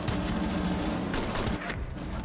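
Dense, continuous gunfire from Rainbow Six Siege hammers on for the whole stretch, loud and unbroken, with rapid shots blurring together and no talk over it.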